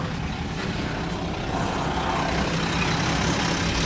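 A heavy truck drives through a scrapyard, its engine rumbling low and steady with dense broadband noise throughout, growing slightly louder toward the end, no talking.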